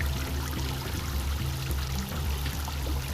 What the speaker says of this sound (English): I might just dunk the watering can in several times and water anyway, since I'm refilling the pond.